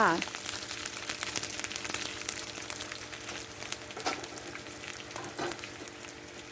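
June beetles frying in oil in a pan over low heat, a steady close crackling sizzle with scattered pops and occasional utensil scrapes throughout.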